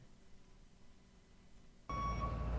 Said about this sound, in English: Is that a truck?